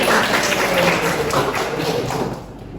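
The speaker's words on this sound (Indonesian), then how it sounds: "Tepuk tangan untuk Aulia." Classroom of students clapping for a classmate, a dense burst of hand claps filling the room at close range, thinning out toward the end.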